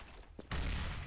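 A CS:GO high-explosive grenade goes off in a single loud, broadband blast after a quieter, faintly clattering lead-in, with the boom rumbling on to the end.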